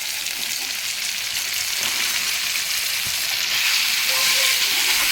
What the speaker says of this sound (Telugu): నెక్స్ట్ అయితే టమాటాలు ఇప్పుడు ఇంకా బీరకాయలు వేసేస్తున్నాం